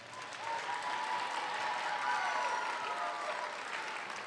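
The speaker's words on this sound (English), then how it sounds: "How about we give a big round of applause to all our teachers?" Audience applause for the teachers at an elementary school Lunar New Year celebration, a steady wash of clapping with a few whoops and cheers rising through it.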